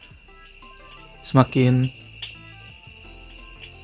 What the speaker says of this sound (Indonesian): Kalau kalian picik, maka akan ada suara jangkrik atau apa gitu lah ya